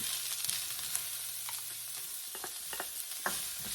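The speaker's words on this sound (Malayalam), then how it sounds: "അതും കൂടെ ഇട്ട് നമുക്കൊന്ന് വഴറ്റാം" Thinly sliced onion sautés in a pan for a fish curry with coconut milk and mango, a steady hiss of frying broken by a few stirring scrapes and taps, with no talking.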